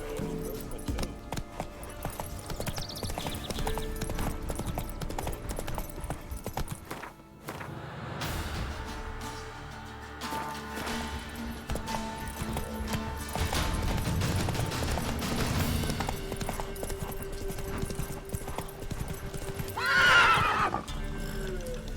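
Horse in The Witcher 3 video game neighing and clip-clopping, hooves thudding under a game soundscape, with a loud whinny rising near the end.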